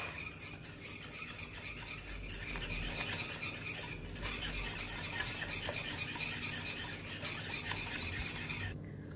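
Custard cream stirred continuously in a pot over medium heat, a steady scraping and rasping of the utensil against the pot with faint clinks, close and unbroken, no voices.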